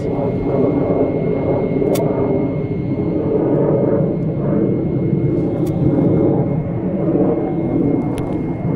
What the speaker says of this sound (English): That's a typhoon circling round.